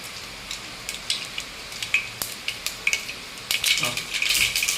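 Mustard seeds spluttering in hot coconut oil for a Kerala-style country chicken curry: scattered sharp pops and crackles over a steady low sizzle, growing busier toward the end, close and moderately loud, with no talking.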